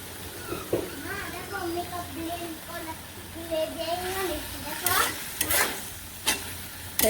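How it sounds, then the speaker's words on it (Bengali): Meat browning in a pan for a Bengali curry with fresh Malabar spinach, a steady close sizzle under stirring scrapes, with a few louder clatters of the spoon near the end. "মাংসটা একটু আর কি ভাজি ভাজি করে"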